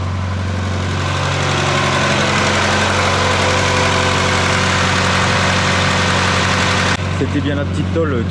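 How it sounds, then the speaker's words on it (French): Idling 1.8-litre Volkswagen Golf 2 engine with a Weber 32/34 carburettor, a steady close mechanical hum carrying an alternator whine, running unchanged until a brief shift near the end. "Là, ce qu'on entend, c'est l'alternateur."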